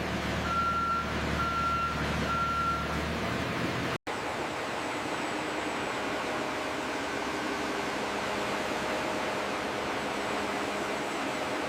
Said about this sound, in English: massive cargo trucks roll into the facility